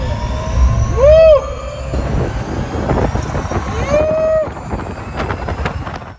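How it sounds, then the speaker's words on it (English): An Arcimoto three-wheel electric commuter vehicle accelerates at full throttle, its motor whine rising in two sweeping upward pitches over steady wind and road rumble, heard loud and close from on board. "open up that throttle, see how fast you can get this thing going"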